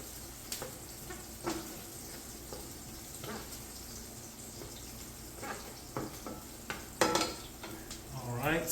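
Food fries in oil in a pan while being stirred, with a soft continuous sizzle broken by scraping and clinking strokes of the utensil, growing busier toward the end.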